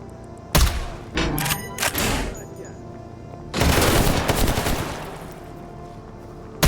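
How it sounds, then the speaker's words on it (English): Gunfire in a survival shooter game, with a few sharp separate shots early on, then a long dense burst of rapid fire and one final crack, loud and close, with faint voices in the background. "here come the shots"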